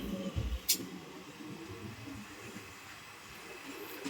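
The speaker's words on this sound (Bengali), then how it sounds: "এদিকে আসলো একটি লোকাল ট্রেন" An Azimganj–Katwa local train passing at Katwa Junction, a low rumble and rail hiss at moderate distance with a brief sharp squeal near the start.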